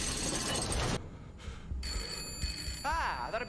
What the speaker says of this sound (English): That'll be the phone. Somebody get the phone.